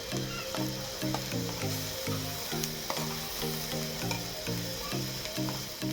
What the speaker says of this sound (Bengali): ডালটা দিয়ে আমার ভালো করে ডালটা মশলার সাথে একদম পুরো শুকনো করে কষিয়ে নেব